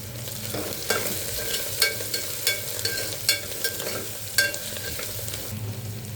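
Dried fenugreek leaves and spices sizzle in a pan for kodo millet biryani, a steady close frying hiss broken by regular sharp spatula scrapes and clicks, with no talking.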